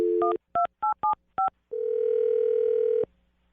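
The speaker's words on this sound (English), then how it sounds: "I'm going to dial his phone number right now and see if we can figure it out for you" A telephone number is punched in as a string of short touch-tone beeps, then a steady ringback tone sounds, clear and close with no voices over it.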